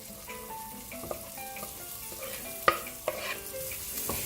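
Garlic and spring onion frying in melted butter in a pan for mushroom soup, a soft continuous sizzle broken by stirring clinks and a few sharper scrapes, close and fairly quiet, with no voices.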